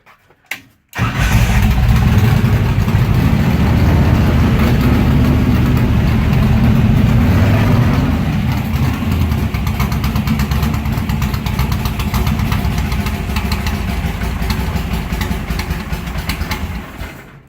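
A car engine fitted with mechanical fuel injection cranks and catches after a short pause, then runs loud and steady at a rough, busy idle for a long stretch, close by with no talking.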